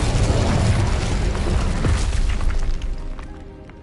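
Incendio fire spell cast in a wizarding video game, a loud, dense whooshing burst of flame with boomy low rumble that holds steady for a few seconds and then fades away.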